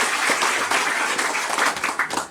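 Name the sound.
applause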